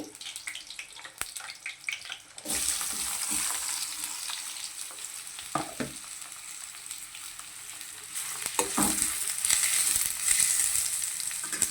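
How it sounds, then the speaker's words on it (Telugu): Onion pieces sizzle steadily in a hot pan for a green peas curry, a loud continuous fry with occasional stirring clatter, coming in suddenly after a quieter start. "బాగా త్వరగా ఏగనివ్వాలి"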